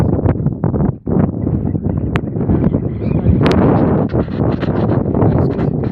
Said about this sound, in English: it's windy now, you probably won't hear me